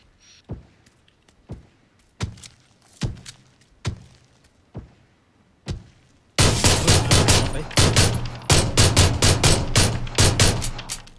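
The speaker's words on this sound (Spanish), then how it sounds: "Le di dos tiros, eh." In the video game PUBG, single gunshots ring out at intervals, then erupt into a dense, continuous burst of rapid automatic fire, loud and close.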